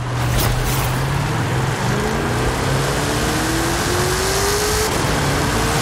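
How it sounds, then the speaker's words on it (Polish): A 1750-horsepower Chevrolet Camaro COPO drag car in Forza Horizon 5 roars as it accelerates hard, its engine note climbing steadily in pitch through the run, loud and close with no talking. "to jest chyba faktycznie najszybciej przyspieszający samochód w grze obecnie"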